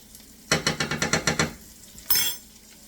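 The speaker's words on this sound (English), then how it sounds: "I'm going to add my minced garlic in here." Minced garlic hits a hot pan for garlic butter pasta, giving a quick run of about eight rhythmic stirring scrapes followed by a brief sharp burst of sizzle, close and fairly loud with no talking.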